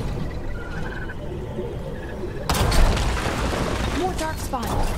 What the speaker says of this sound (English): Aim the ballista using R and press RT to fire an explosive bolt.